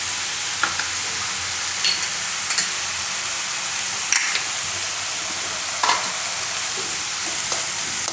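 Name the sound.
turmeric being roasted and stirred in hot oil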